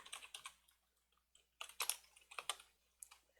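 Close-up typing of Java code on a computer keyboard: quick bursts of crisp key clicks in irregular runs, separated by short pauses.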